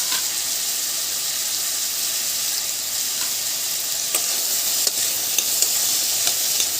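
Mixed colored bell peppers sizzle in a hot pan, a bright continuous frying hiss with a few scraping stir strokes near the end.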